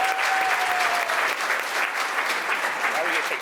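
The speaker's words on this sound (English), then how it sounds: "Round of applause again," Dense audience applause for panelists at a tiny home communities summit, sustained and fairly loud throughout with a faint voice briefly underneath.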